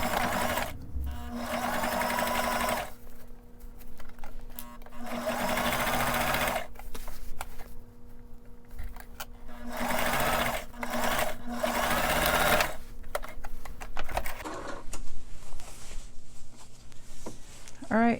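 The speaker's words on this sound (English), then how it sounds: "Now I'll just top stitch it" Sewing machine top stitching a suit sleeve, running in repeated bursts of steady close whirring broken by short pauses, with a person talking in between.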